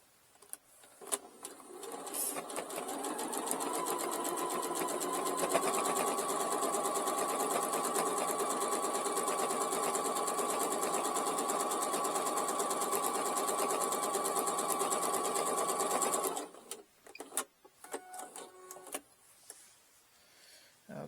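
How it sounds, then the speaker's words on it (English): A sewing machine stitches a pouch made from a dish drying mat, starting with a few short bursts, then running in one long steady whir for about eleven seconds before stopping, followed by brief fabric handling sounds. "So I'm going to sew it just below that raw edge."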